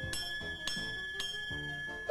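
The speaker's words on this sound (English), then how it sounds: "this bell sounds just like the old bells that they had on the old steam locomotives" A homemade rigged bell like those on old steam locomotives clangs four times at an even, unhurried pace, each strike ringing with a sustained metallic tone that decays into the next, close and clear with no talking.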